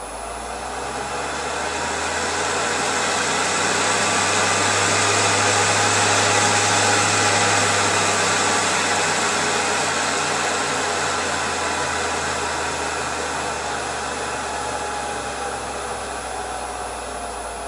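Raw Power centrifuge with an extreme controller spinning up toward 6000 rpm, a loud steady whirring drone that builds and swells over several seconds, then holds near full speed with only a slight easing.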